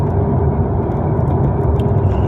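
A car engine hums steadily at close range with continuous road rumble and a low drone while the car drives along, holding an even level throughout with no voices.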